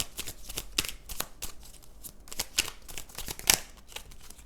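Oracle cards are shuffled and drawn by hand: a steady run of crisp, riffling flicks and slaps, close and fairly loud, with one sharper snap near the end and no talking.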